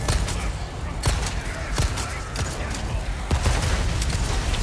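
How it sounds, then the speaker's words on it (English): Chaotic combat in the video game Resident Evil 4 Remake: loud, dense bursts of blasts and gunfire-like impacts crack repeatedly over a constant roar of noise. "Okay, good time for an explosion."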